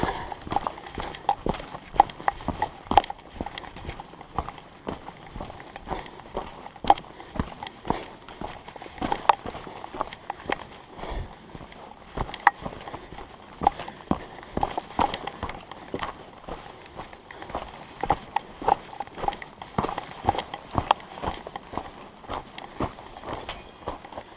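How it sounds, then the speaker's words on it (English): Donkeys walk along a rocky canyon trail in the Grand Canyon near Havasupai, their hooves clopping in a steady, uneven rhythm that stays close and fairly clear, with no talk over it. "They also use donkeys on this trail."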